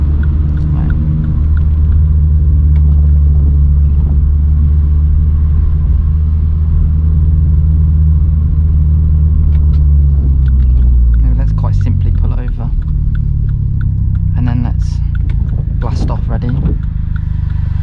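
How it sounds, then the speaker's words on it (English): A Vauxhall Corsa's exhaust drones loudly from inside the car while driving through town at night, a steady low rumble that shifts as the car accelerates up to speed, with someone talking over it later. "let's listen to the exhaust and stuff."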